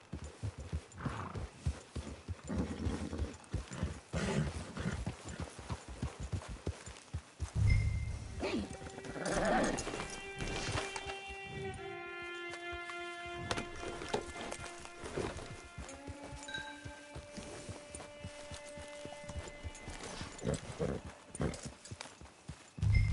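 Horse hooves clip-clopping at a camp in the video game Red Dead Redemption 2, steady footfalls with a brief whinny and other game sounds, while characters talk over it.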